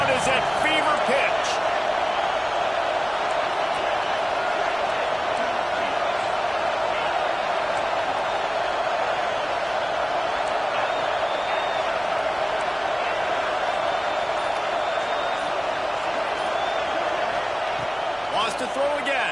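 Steady roar of a stadium crowd during a video game football match, a continuous loud wash of cheering noise with a few sharp thuds near the start and end, while speech runs over it.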